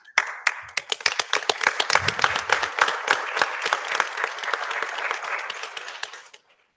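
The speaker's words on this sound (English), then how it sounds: "I don't know if it warranted a whole applause" Council meeting audience breaks into applause, starting with a few distinct claps that quickly swell into brisk, moderately full clapping before stopping abruptly.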